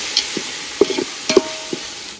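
Tomatoes hit sautéed garlic paste in a pan for biryani, with a soft steady sizzle under a few sharp scrapes and taps of a spoon stirring.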